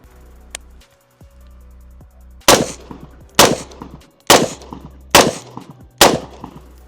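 Five sharp, loud AR-15 rifle shots ring out at a steady pace about one second apart, each with a short echoing decay, after some quiet handling noises.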